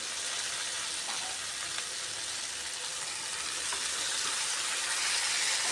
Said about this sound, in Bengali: কেটে রাখা আস্ত শিমগুলোও দিয়ে দিলাম